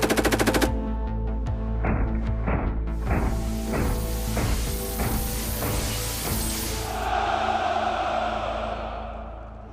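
Live-round test firing of a lathe-built gun barrel, a loud close burst of repeated gunshots in a steady rapid rhythm with a mechanical ring and echo between shots, heard alone.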